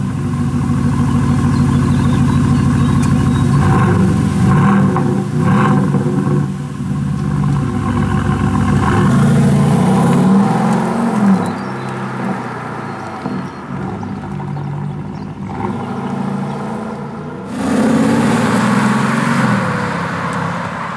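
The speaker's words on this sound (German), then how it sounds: "das ist der Knopf zum Start des Motors" A 2020 Aston Martin DB11 V8 sports car with 510 PS starts up and revs, loud and close, settling into an idle between throttle blips.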